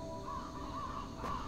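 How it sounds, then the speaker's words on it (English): Crows caw in the Grim Legends 3 game, a few rhythmic calls repeating against a quiet, low ambient background, moderately distant. "Definitely a lot of birds out there."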